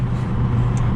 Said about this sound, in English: Oh, listen to that turbo.